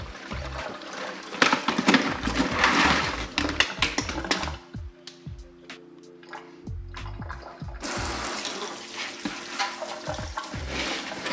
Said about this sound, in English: I'm going to drain the salt water, I'm going to add fresh water, and I'm just going to rinse out the sand on the bottom